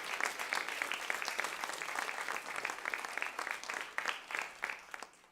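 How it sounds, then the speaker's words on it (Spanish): A church congregation gives a strong round of applause, many hands clapping in a dense, lively patter that thins toward the end, somewhat distant and soft. "le damos un fuerte aplauso al Señor por eso"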